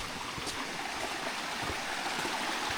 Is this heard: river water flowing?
yes